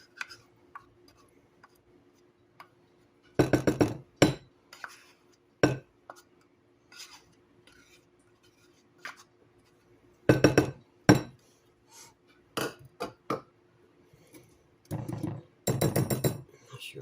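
Wire whisk beating pureed butternut squash pie filling in a bowl, giving bursts of clinking, scraping strokes against the bowl separated by short pauses, close and fairly loud.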